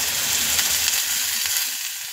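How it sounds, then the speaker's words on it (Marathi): Onion frying in a pan, with tomato about to go in, gives a loud, continuous close sizzle with light crackling throughout and no voices. "आता कांदा आपला बऱ्यापैकी शिजत आलेला आहे। आता आपण त्यामध्ये टोमॅटो ॲड करू"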